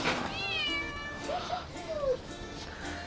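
Cat on the island of Santorini meowing a few times in short, rising and falling calls, close by and moderately loud, with people talking around it.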